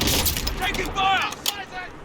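Gunfire in the battle royale video game Call of Duty Warzone crackles in quick close bursts amid game voice callouts, sharp shots mixed with spoken alerts over a short noisy stretch.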